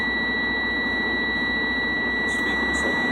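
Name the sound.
truck low air pressure warning buzzer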